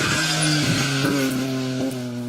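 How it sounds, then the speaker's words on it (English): A loud BMW rally car engine roars as it approaches on a rally special stage, its revving drone shifting in pitch as it draws nearer. "now the distinctive sound of a BMW approaching."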